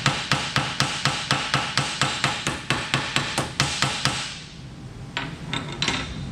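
Big body hammer flattening the sheet metal dust cover of a 1937 Chrysler Imperial, about seventeen sharp, evenly spaced metallic blows in quick succession, then a few lighter, scattered taps, close and loud with no talking.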